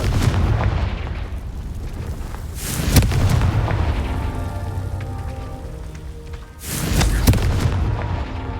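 Fiery spell blasts in the Hogwarts Legacy video game, with two loud booming bursts a few seconds apart and a rumbling, crackling roar between them.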